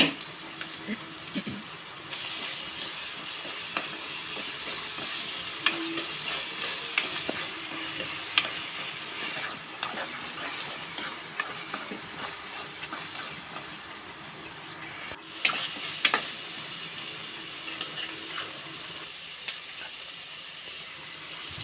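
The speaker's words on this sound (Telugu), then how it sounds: "ఆ పేస్ట్ కూడా వేసుకుని కొంచెం పచ్చివాసన పోయేంత వరకు వేపుకోవాలి" Steady sizzling and frying of a spice paste in a pan, with occasional stirring scrapes and clinks, continuous and close, without any talking.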